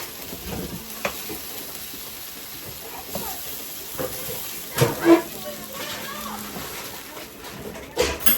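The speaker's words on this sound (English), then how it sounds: "That's sizzling." A soft, steady sizzle of spicy sausage frying in a pan runs throughout, with a few sharp clinks and pops now and then and a voice talking briefly.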